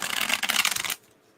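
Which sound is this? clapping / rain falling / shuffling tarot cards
shuffling tarot cards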